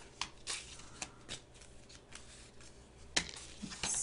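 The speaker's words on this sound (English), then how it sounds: "I'm shuffling these." Cards being shuffled close up, soft riffling bursts and shuffles spaced out over a few seconds, with no voices.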